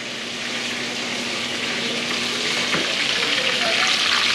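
Fish sizzles steadily as it fries in a pan at an outdoor cooking spot in Haiti, a dense, continuous crackle with occasional spits and pops, loud and close with no talking.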